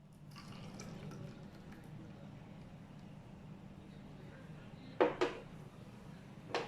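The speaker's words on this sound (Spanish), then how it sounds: "después echamos agua caliente al colorante rojo" Hot water is poured into a glass of red food colouring in a small tabletop experiment, a short close splash with a second trickle after a quiet, humming stretch.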